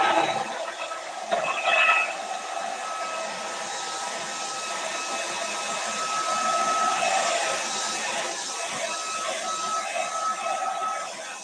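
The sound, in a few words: hair dryer drying wet paint on a pillow cover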